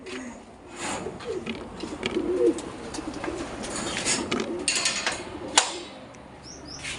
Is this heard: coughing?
no